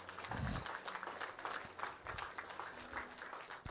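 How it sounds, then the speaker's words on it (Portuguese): A church congregation at a worship service applauds for Jesus, brisk clapping from a crowd mixed with a few low thumps and background voices, fairly distant and moderately loud throughout. "Dá uma salva de palmas para Jesus."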